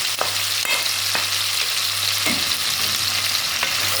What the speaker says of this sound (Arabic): الكفتة بتاعتنا اتحمرت كده على كل جنب، نبدأ كده ننزل بالمشروم